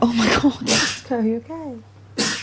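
A single sharp sneeze bursts out, followed by a person speaking with concern, then another short burst at the end.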